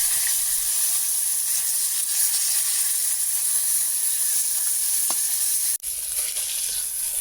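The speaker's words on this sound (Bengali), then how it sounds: "মাছগুলো আমার এক পিঠ ভাজা হয়ে গেছে, অন্য পিঠে দিয়ে আমি মাছগুলো ভালো করে লাল লাল করে ভেজে নেব" Freshly caught pond fish fry in hot oil in a pan, a loud continuous sizzle and hiss with a brief dip and a small clatter near the end.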